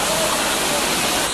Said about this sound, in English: Waterfalls over there looking good.